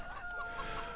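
Chickens cluck steadily at a poultry farm in the Landwirtschafts-Simulator 15 video game, a continuous moderate flock chatter with faint crowing tones running through the whole second.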